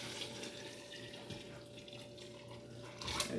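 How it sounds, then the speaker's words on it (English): Hot water poured into a soup pot for old-fashioned chicken soup, a steady faint rushing splash running continuously with a slight swell near the end, no voices. "We're going to go ahead and add our water,"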